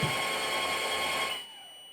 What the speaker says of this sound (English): I get a beep, and that lets me know that I am done.